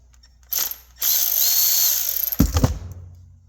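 Metal tool clicks and scraping as a flathead screwdriver pries the carburetor float bowl off a log splitter engine, a sustained gritty rasp followed by a few sharp knocks, close and loud with no talk.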